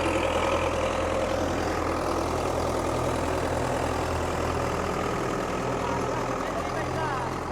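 A large Belarus tractor idles with a steady, low, even engine rumble. It hitched to a big maize planter and holds a constant level throughout.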